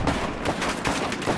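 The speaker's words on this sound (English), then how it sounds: "they're shooting us from behind, there's a sniper" Rapid bursts of sniper and assault gunfire from a Battlefield 4 firefight, a dense, loud, continuous crackle with several sharp reports in quick succession and no voices.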